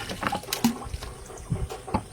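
Jaggery dissolved in water poured into a mixing tub outdoors while preparing jeevamrut, giving several splashy gushes and sloshes in quick, uneven bursts.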